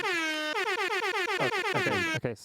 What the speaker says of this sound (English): I hope that was a royalty-free air horn.